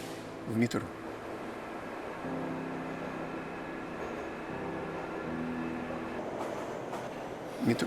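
A Samara metro train rolling underground makes a steady, close rumble with a low hum, and brief clanks near the start and end.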